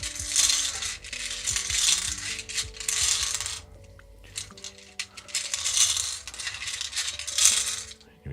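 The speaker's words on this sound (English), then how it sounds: "We just shuffle and draw you a rune." Rune stones shuffled and drawn, likely from a shell: repeated bursts of rattling, clattering stone clicks in a few shaking spells, close and moderately loud, with brief quiet gaps between.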